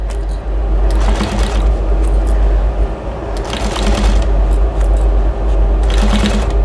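Close, loud sewing machine basting stitches across the top of a drying mat with bias tape, a steady rapid mechanical chatter with low motor hum running continuously.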